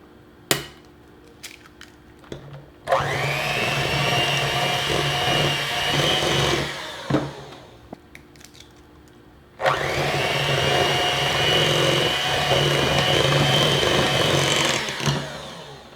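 An electric hand mixer whirs loudly in two long bursts as eggs are beaten into cheesecake batter, with short knocks and scraping against the bowl in the pauses between runs.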